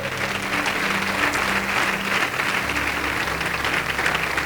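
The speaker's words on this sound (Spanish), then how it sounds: "Dale un aplauso al Señor." A church congregation applauds loudly and continuously during a sermon by Pastor Hiram Durán, a thick wash of clapping with faint low sustained tones running underneath.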